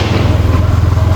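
A superbike's engine drones loud and close with a steady low pulsing rumble as the rider clicks into gear.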